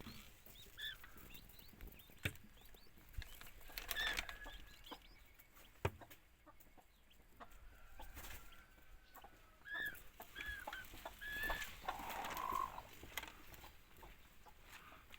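Hens cluck softly and intermittently in a quiet barnyard, with short calls scattered over a low background hiss.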